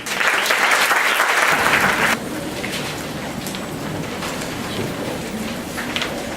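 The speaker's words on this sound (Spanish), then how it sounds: "lo recibimos con un fuerte aplauso" Loud applause from an audience welcoming a doctor to give a lecture, a strong burst of many clapping hands that abruptly drops to a softer, steady clatter that continues to the end.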